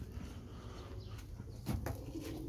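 Pigeons around a backyard coop coo and flutter, a low steady murmur of soft calls with a few brief wing bursts, fairly close and continuous.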